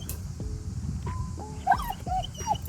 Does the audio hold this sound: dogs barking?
yes